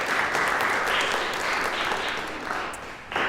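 An audience claps steadily throughout, a dense, fairly loud wash of applause with no talk over it.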